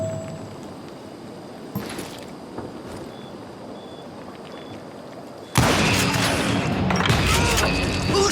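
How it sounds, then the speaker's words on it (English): Gunfire in the Western shooter Call of Juarez: Gunslinger: a few distant shots early, then a loud burst of rapid, dense firing and booms that keeps going to the end. "Who's shooting?"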